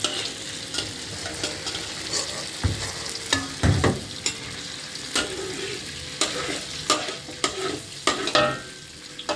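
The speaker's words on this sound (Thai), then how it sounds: "เราก็มาทอด เต้าหู้เตรียมไว้เลยนะครับ" Tofu frying in hot oil in a pan, a continuous crackling sizzle with irregular scraping and clacking as it is stirred and turned, close up and without voices.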